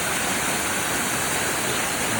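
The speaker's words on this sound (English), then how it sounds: "Little waterfall." A small waterfall near Whittier, below Whittier Glacier, gives a steady, full rushing hiss that holds unbroken and fairly loud for the whole stretch, with no voices over it.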